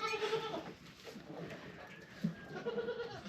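Goats bleat on a Western Kentucky farm during an ice storm, several calls rising over steady low background noise, one sharp bleat standing out near the end.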